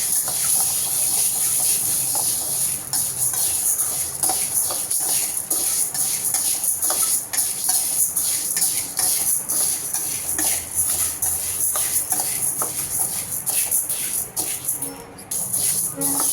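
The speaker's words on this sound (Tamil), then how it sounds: "இந்த மாதிரி ஒரு 2 நிமிஷம் கிண்டிகிட்டே தான் இருக்கணும்" Urad dal mixture stirred in a hot pan, a steady sizzling hiss with soft scraping and shuffling strokes of the spoon repeating throughout, close and continuous.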